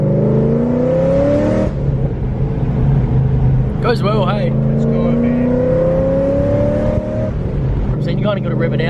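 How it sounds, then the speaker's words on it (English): V8 Holden VF SS Commodore, bagged and wrapped, revs hard with rising engine tones and then pulls away, loud and near, while people talk over it. "kind of got to rev it out a little bit, but that's an 8 for you"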